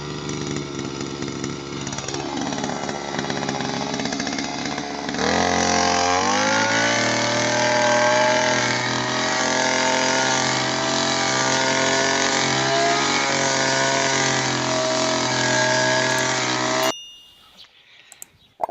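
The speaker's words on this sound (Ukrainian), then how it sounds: "Тепер будемо косити оцей аквапарк джунглі. Включаємо косу, заводимо." A petrol brush cutter fitted with a disc blade idles, then runs at high revs with a steady, loud, close buzzing whine while cutting dense tall grass, and cuts off near the end.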